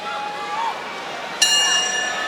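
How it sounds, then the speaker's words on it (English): A boxing ring bell strikes once at the end of a round with a sustained metallic tone, heard over a busy arena crowd murmur at Madison Square Garden and a commentator talking. "hears that history-ringing bell here at MSG"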